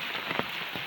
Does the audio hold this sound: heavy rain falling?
yes